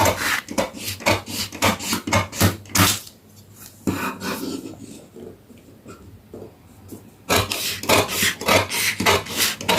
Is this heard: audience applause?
no